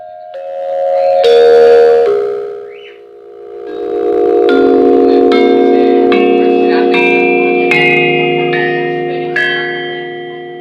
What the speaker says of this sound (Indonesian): Berikut merupakan contoh bunyi dari slentem.